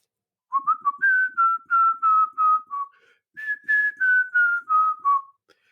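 A clear whistled melody of short, evenly spaced notes in two phrases, each phrase gently descending, heard up close with no other sounds.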